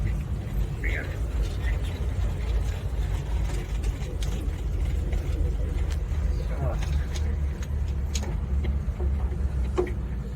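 A Suzuki Samurai driving along with its window up fills the cabin with a steady, loud low engine and road rumble that never lets up, and a voice speaks at times over it.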